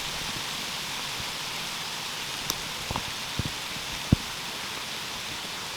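Snow pellets falling outdoors during a New York bow season hunt make a steady, even hiss like light rain, with a few brief sharper taps close by.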